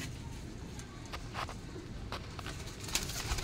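Punjabi Malwai pigeons coo softly in a loft, low murmuring calls repeating under a steady background hum with a few brief rustles and flaps.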